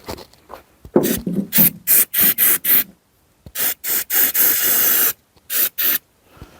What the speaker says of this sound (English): Good old brake cleaner.